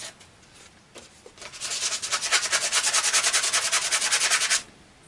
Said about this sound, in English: But I'll see how much I can get done with just the sandpaper first.